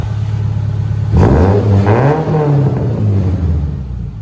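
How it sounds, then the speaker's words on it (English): A car engine revs up hard close by, its pitch rising and falling in a couple of throttle blips over a steady idle, with a rough, boxer-like burble. "It sounds like a Subaru."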